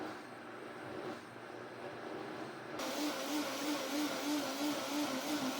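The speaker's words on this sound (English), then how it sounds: "So now I'm going to put it back on and let it blend again." Blender whirring as it blends a creamy salad dressing base, a steady rushing motor noise that grows louder and harsher partway through, with no talking.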